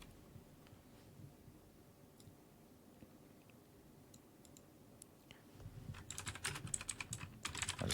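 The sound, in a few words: typing on a computer keyboard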